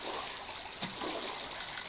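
Water sloshes and trickles in a steady, close wash during swimming in the survival video game Raft, with one brief splash near the middle and no talking.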